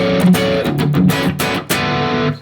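A distorted electric guitar plays a melodic modern metal riff: chugging low notes with brighter melodic lines, loud and close, with a short pause near the end and no talking.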